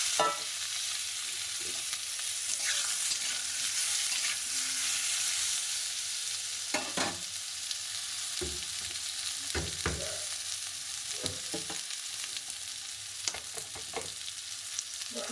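Boiled kohlrabi and potato fry in very hot oil with panch phoron and a few bay leaves, giving a continuous close sizzle. Stirring scrapes and knocks come through now and then, with no talk.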